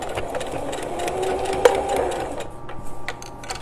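Sewing machine stitching a contact window on a pommel pouch, a continuous close mechanical whirr that stops abruptly partway, followed by faint handling noises.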